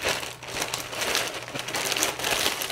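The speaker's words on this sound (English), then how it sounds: "inside it's in a plastic bag." Crinkling plastic rustles continuously for a few seconds, close and fairly steady, with small crackly bursts throughout and no voices.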